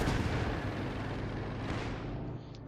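A heavy shell striking a Panther tank in the strategy game Company of Heroes 2, a loud booming artillery-like impact with rumbling battle noise that stays dense and slowly fades out.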